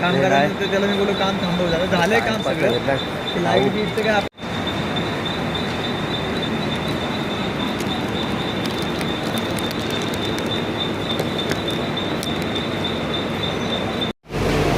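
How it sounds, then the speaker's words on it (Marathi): Steady rumble and clatter of a moving Mumbai local train carriage from CST, continuous and loud, with a high whine over the rolling noise. "आत्ता सी एस टीची सहा सदतीची ट्रेन पकडली आहे"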